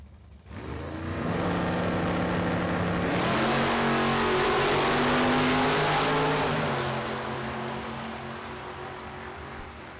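A 1963 Chevy Nova and a Plymouth Duster launch side by side down a drag strip, engines swelling into a loud, rising roar with a shift partway through, then fading as the cars pull away.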